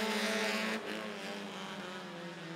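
Race cars roaring off at the green flag to start a bandit heat at Rockford Speedway, a loud dense engine drone that rises in pitch as the pack accelerates.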